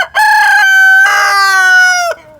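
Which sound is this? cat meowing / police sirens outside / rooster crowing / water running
rooster crowing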